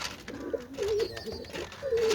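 Domestic pigeons, kept for tournament flying, give soft, rolling coos in close succession, a few low throaty calls repeating over a steady background hiss.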